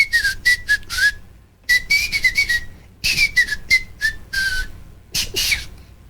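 A person whistles a flute melody up close in short, lilting phrases with small pauses, the voice imitating a flute line.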